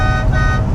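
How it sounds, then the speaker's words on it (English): A 1957 Chevy's horn sounds one steady, loud honk held for the whole moment, close by, over a low rumbling engine idle. "Love that horn."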